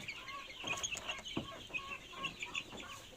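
Young chicks about one month old, reared alongside Rhode Island Reds on a poultry farm, cluck and peep in a steady run of short, soft calls, close by and alone with no talk.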